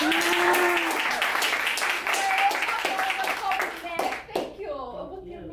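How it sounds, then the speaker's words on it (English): Enthusiastic applause and clapping from a group, with excited voices and cheers mixed in, dying down near the end. "I know that you're applauding for yourself."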